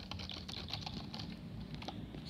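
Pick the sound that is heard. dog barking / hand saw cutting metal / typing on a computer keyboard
typing on a computer keyboard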